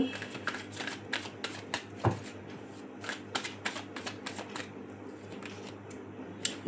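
Tarot cards being shuffled by hand, a run of crisp riffling flicks and light slaps repeating in quick irregular bursts, close and fairly soft, with no talk.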